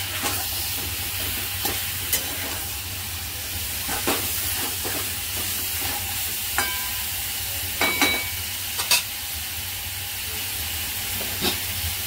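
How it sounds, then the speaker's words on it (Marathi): Chicken pieces frying in oil for a cashew chicken masala, a soft steady sizzle under sharp intermittent scrapes and taps of a stirring spoon against the pan, with no talk. "मस्त तेलावर असं भरपूर 5-6 मिनिटाचं तेलावर परतून घ्यायचं"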